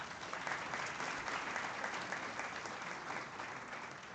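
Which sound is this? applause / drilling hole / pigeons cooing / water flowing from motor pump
applause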